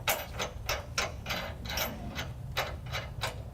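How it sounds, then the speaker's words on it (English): Nuts being hand-tightened onto bolts, with lock washers, while fitting a trailer hitch to a 2005 Ford F-150: a run of about nine evenly spaced metallic ratcheting clicks over a low rumble, close and moderately loud, with no talking. "We'll tighten these down, hand tighten."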